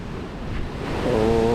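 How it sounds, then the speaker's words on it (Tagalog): Sea waves wash onto a beach in a steady, continuous surf roar with wind noise across the microphone, rising slightly toward the end, with no voices. "dito tayo ngayon sa tabi ng dagat. Maalon"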